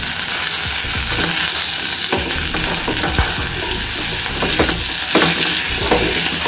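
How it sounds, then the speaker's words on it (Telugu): Cut pumpkin pieces frying in a pan over a medium flame, giving a loud, steady sizzle with intermittent scraping and stirring clatters, close up and without any voices. "వేసుకున్న తర్వాత 1 నిమిషం పాటు వీటిని మీడియం ఫ్లేమ్ మీదనే వేయించుకుందామండి"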